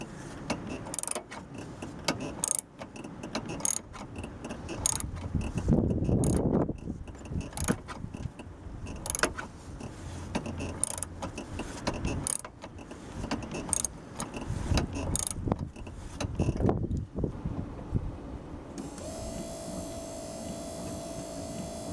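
A 2009 Dodge Grand Caravan windshield wiper motor and linkage cycling, giving repeated mechanical clicks and clunks in a steady rhythm at close range with no talking.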